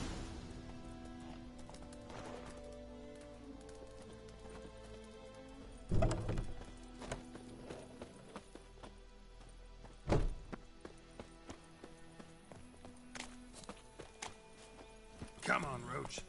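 Hooves of Roach, a horse in The Witcher 3, clip-clopping in a few scattered, loud thuds over a quiet game soundscape, with occasional voices speaking.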